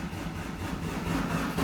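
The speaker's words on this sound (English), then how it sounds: "as you can see now the engine is running normally" Kia Sorento D4CB diesel engine fitted in a Hyundai i800, running steadily just after starting, a continuous low rumbling idle heard up close with no talk over it.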